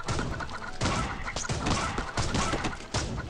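Chickens cluck in the Swamp Attack 2 video game, layered with steady game action noise, thumps and crashes, loud and continuous with no talk over them.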